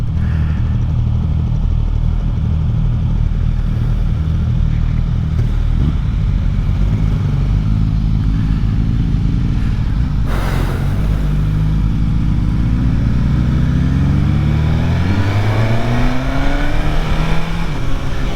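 A 2024 Suzuki GSX-S1000 GT sport touring motorcycle ridden at speed, its engine droning loudly and steadily with wind rush, then revving and shifting through rising and falling pitch sweeps, close and continuous.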